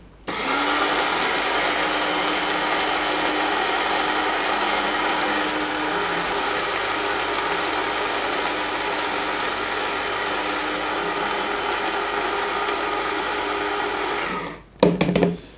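A small electric coffee grinder mills grain into flour, giving a steady, loud whirring drone that runs continuously for about fourteen seconds before cutting out, followed by a brief clatter.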